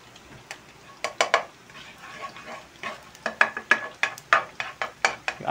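Butter melting in a pan while cooking fried rice at home, a faint background sizzle broken by sharp scraping clicks of a utensil against the pan that come in quick irregular bursts, close up.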